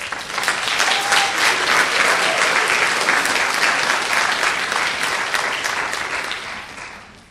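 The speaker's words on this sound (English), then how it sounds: "Please give a round of applause for Professor Corey Shedd." Loud, sustained applause from a large audience at a college speech night, dense clapping that holds steady for several seconds before tapering off.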